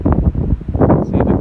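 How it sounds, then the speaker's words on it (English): Strong wind gusts blow by a lake, buffeting the microphone in loud, uneven bursts of low rumble for a brief moment. "some pretty crazy gusts of wind going on"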